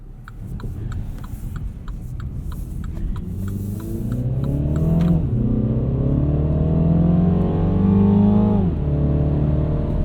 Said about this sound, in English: That's a strange noise coming from an engine.